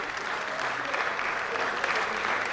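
Brief, dense round of applause from attendees at a village meeting, a continuous crowd of clapping hands at steady loudness throughout.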